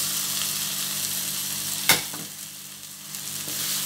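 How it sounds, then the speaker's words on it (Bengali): Fried potato pieces sauté with spices in a pan for Bengali shol fish curry, giving a steady close sizzle with one sharp scrape of the spoon partway through. "আলু দিয়ে আবার একটু কষিয়ে নেব।"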